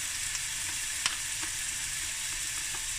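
Ginger and tomato frying in a pan for chickpea masala rice, a steady close hiss of sizzling oil with a few soft clicks of stirring throughout.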